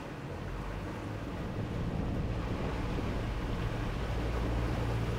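A Centouno Navi Vespro motor yacht throttles up, its engines giving a steady low rumble that builds gradually, mixed with rushing water and wind noise.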